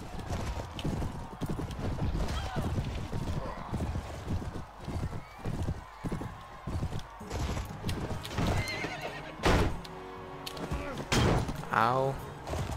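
Horse hooves clip-clop steadily in Mount and Blade: Warband, mixed with neighs, thuds and combat clatter, with a person talking over parts of the action.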